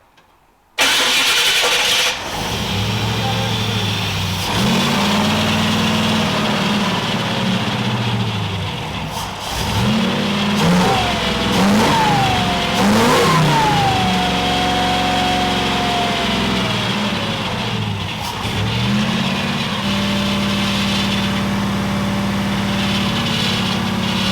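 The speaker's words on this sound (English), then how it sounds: "I'll fire it up. I want it to just idle." A car engine cranks on the starter and catches, then settles into a steady idle with a few rises in revs, loud and close with a whining tone, heard alone without talk.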